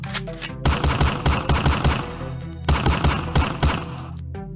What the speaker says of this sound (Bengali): এ রমজান ভাই সাইড হন সাইড হন, গুলি করলো গুলি করলো।